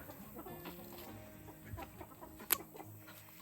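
A young chicken clucks and fusses while its wings are trimmed, soft irregular clucks close by with one sharp squawk partway through.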